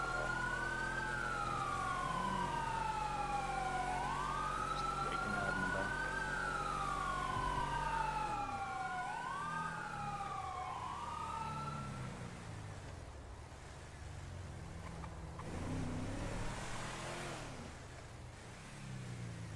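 Ambulance siren in the FivePD police game, a loud wailing siren sweeping up and down steadily for about twelve seconds before cutting off, leaving engine rumble and a fainter siren sweep later on.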